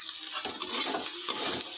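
Pasta ingredients frying in a pan for a Bengali-style pasta, a short burst of close sizzling with a couple of scraping stirs, no talk.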